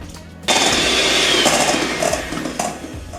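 Electric whisk beating brown sugar, eggs and vanilla for carrot cake batter, a loud, close, steady whir that starts abruptly and runs continuously with slight wavering, no talk.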